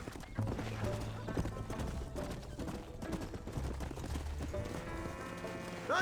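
Horses galloping in Red Dead Redemption, rapid hoof clip-clops running throughout under music and ambience, with a whinny near the end.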